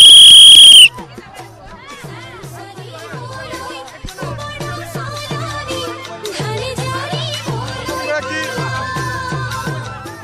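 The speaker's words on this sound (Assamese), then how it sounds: "হুইচেল আৰম্ভ কৰি দিয়ক হুইচেল" A referee's whistle opens a village kabaddi match at a Magh festival event in Badeshila, Assam: one loud, shrill blast lasting under a second, followed by crowd babble and pitched festive sounds.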